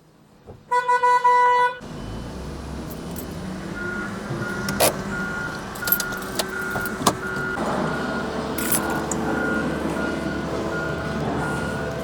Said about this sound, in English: That was my car horn being honked.